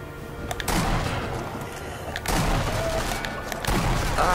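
Rapid bursts of gunfire from a Tomb Raider-style action video game, sharp repeated cracks over a dense, noisy battle background with a few louder impacts.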